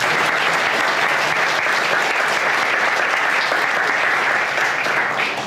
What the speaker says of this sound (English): let's give her a round of applause for everything she's done.